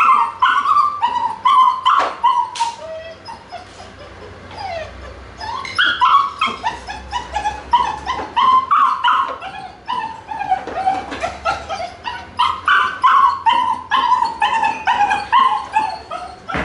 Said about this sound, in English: Whilst it's crying in the crate, the puppy must be ignored.